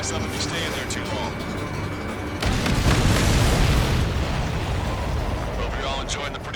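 Explosions in the video game Ace Combat 7: a deep, booming blast bursts in over background game noise and radio chatter, then rumbles and slowly fades.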